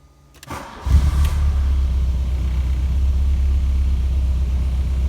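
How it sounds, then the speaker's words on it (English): A Mk1 Volkswagen Golf engine cranks briefly, catches, then settles into a steady, loud low idle that continues to the end. "next we're going to start the engine and see if the flashing light goes out"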